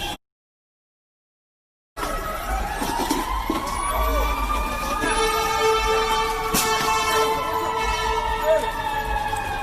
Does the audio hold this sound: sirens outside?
yes